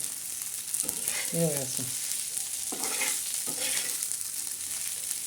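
Crushed wheat kurdai crumbs are stir-fried in a pan, with close scraping and stirring strokes over a steady, soft sizzle.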